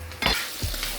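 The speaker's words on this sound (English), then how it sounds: "So we got our pinto beans, our onions, and our garlic going right here." Pinto beans, onions and garlic frying in a pan, a close steady sizzle with a couple of stirring scrapes and a low hum underneath, no talking.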